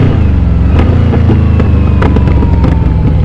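A Yamaha Vmax cruiser motorcycle's exhaust revs loudly and up close, its deep throbbing roar broken by a run of sharp crackling pops on the overrun.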